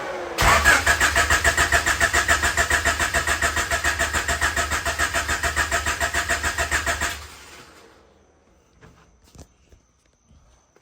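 A turbocharged Honda CB7 with an H22 engine, just fitted with a relocated battery and 0-gauge power wire, cranks and fires, then runs loud with a rapid, even pulse for about six seconds before shutting off, leaving faint clicks and rustles.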